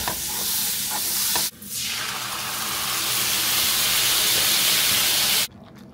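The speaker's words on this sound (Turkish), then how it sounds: "için önce şöyle bir tereyağı kızartacağım sarımsaklarla birlikte." Garlic frying in butter in a pan, a loud continuous sizzle and hiss that jumps up after a brief clatter, then cuts off abruptly near the end.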